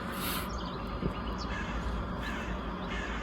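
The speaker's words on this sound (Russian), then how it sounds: "Вороны, раскричались." Crows cawing in the early morning outdoors, loud harsh calls over a steady background hiss from a campsite setting, with no talk.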